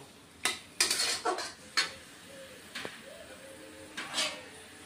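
A metal lid and utensils clatter against a cooking pot of ash gourd, several sharp clanks and knocks spaced out over a few seconds, close and fairly quiet with a low sizzle between them.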